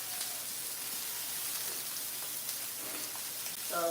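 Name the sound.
pork chops searing in a pan, sizzling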